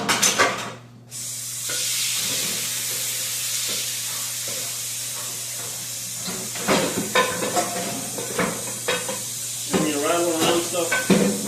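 Chicken frying in a pan for a chopped cheese sandwich gives a steady broad sizzle and hiss throughout, with a low constant hum beneath and scattered clanks and stirring sounds toward the end.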